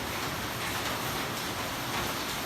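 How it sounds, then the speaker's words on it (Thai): Rain falls steadily at a fence installer's home during the rainy season, a dense, constant hiss that stays even and unbroken throughout. "ทางบ้านช่างเองก็ตอนนี้ฝนก็กำลังตกนะครับ"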